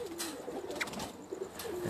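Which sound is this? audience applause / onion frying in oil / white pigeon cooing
white pigeon cooing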